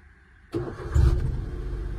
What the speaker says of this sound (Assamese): ইয়াত ইঞ্জিন চাউণ্ড একদম স্মুথ চলাবলৈও ভাল